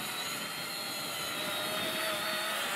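A Hubsan Zino drone flies outdoors in strong wind, producing a steady, high-pitched propeller whine with constant wind rush, heard continuously at moderate distance with no talking.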